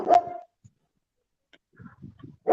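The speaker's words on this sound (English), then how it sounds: "I heard him barking in the background." A dog gives one loud, close bark at the start, then a short series of softer yips and whimpers, and a second bark begins right at the end, with near-silence in between.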